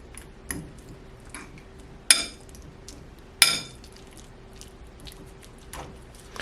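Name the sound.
mashing roasted sweet potato with a fork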